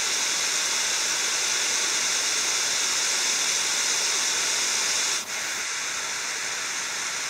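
A creek in summer flow spills down into a single channel, a steady, loud, broadband rush of water that holds unbroken throughout, with only a brief dip near the end.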